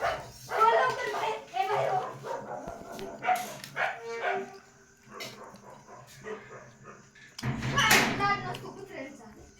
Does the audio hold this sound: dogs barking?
yes